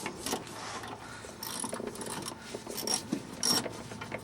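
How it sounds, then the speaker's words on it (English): A small socket wrench ratchets in short bursts while undoing the fuel filter clamp on a 1991 Ford Mustang GT, the clicks close but fairly quiet, with intermittent metallic ticks and handling noises. "So here's a little socket set I'm going to use to undo the"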